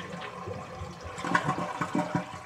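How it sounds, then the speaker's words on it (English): An older toilet with its supply valve shut off is flushed, producing a nearby gurgling rush and draining water with irregular surges and sloshes, no speech on top. "And then we're going to flush the toilet."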